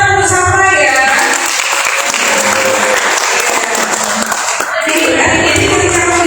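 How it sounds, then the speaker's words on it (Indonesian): An audience at a job fair mental-health talk claps together, a steady wash of applause that runs for several seconds while a voice speaks over it at the start and end. "Oke, tepuk tangan bersama ya."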